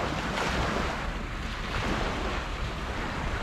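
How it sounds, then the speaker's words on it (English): Ocean waves crashing on a shore, a steady roaring wash of surf with wind buffeting the microphone throughout, no voices. "I thought that would be a very nice sound, the lovely crashing waves behind me"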